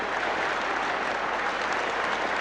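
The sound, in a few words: cricket crowd applause and standing ovation at Melbourne ground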